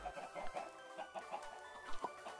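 Chickens in the Minecraft video game cluck softly in repeated short bursts, faint and somewhat distant, with no other sounds over them.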